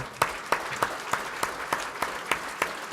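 Faint, evenly spaced claps about three per second, a slow rhythmic clapping from a small audience in a room, repeating steadily without talk.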